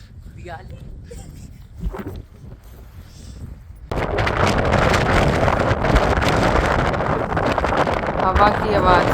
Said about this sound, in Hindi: हवा की आवाज़ से आपको पता लग रहा होगा कि कितनी तेज़ हवा चल रही थी